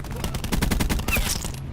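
GKS submachine gun firing in a Call of Duty video game, a sustained burst of loud, evenly spaced shots at a fairly slow rate, close up, with a faint voice briefly under the fire.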